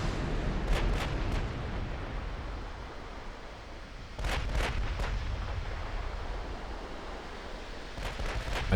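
Naval gunfire in Ultimate Admirals: Dreadnoughts, with clusters of sharp booming shots from a ship's battery over a constant rumbling sea-like roar, one burst early, another near the middle and more at the end.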